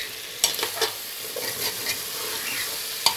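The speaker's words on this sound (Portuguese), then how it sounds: "Deixa refogar mais um pouco." Dried beef (carne seca) sautéing in a soup pot for chicken soup, a steady close sizzle broken by a few sharp scraping stirs of a spoon against the pot, with no talking.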